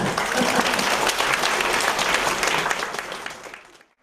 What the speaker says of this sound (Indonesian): tepuk tangan untuk jawabannya